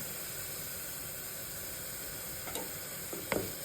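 Onions with curry leaves fry in a pan for Andhra-style palak pappu, a steady faint sizzling hiss broken near the end by a few soft clinks of a spoon stirring.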